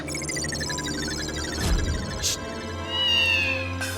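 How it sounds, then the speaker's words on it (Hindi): A cat meows with rising and falling cries over a quiet room in a sitcom scene, several calls spread across a few seconds, fairly close and clear with a low steady hum beneath. "बिल्ली"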